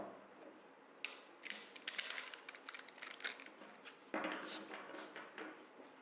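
A tarot deck shuffled by hand in a quiet room, crisp flicking and riffling bursts of cards close to the listener, pausing briefly before another flurry.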